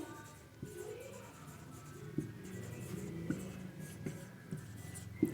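Chalk or marker tapping and scratching on a board during a chemistry lecture on ionization enthalpy, faint, irregular strokes over a quiet room hum with no speech.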